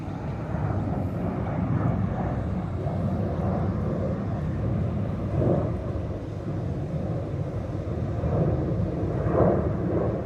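An airplane passes overhead near an airport, a loud, steady low rumbling roar of engines that swells slightly and holds throughout, with no voices.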